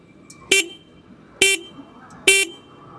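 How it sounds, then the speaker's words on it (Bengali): Stock horn of a Hero Extreme 125R motorcycle sounded in three short, loud, bright honks, roughly one second apart, with quiet gaps between. "আমি হর্ন দিতেছি"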